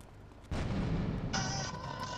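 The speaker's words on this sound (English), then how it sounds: "I'm going to throw some grenades at it." Grenades going off against a Kuruma car in GTA III: a sudden loud, broad blast that keeps roaring, with a second burst layered on partway through, then a sustained rumbling tail and no voices.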